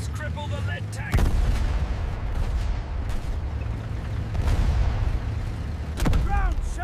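Heavy tank gun firing in a desert battle in North Africa, deep booming blasts with rolling echoes, one sharp report early and another near the end, over a continuous low rumble of combat.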